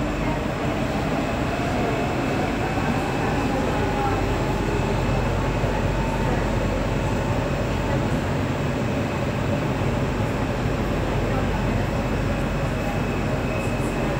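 A Budapest M3 line metro train pulls out of Kálvin tér station, a steady loud rumble and rushing roar from inside the carriage that holds unbroken throughout.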